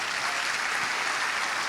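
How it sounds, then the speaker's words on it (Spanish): Congregation applauding at the close of a sermon, dense continuous clapping from many hands at a steady level throughout. "Un aplauso al Señor."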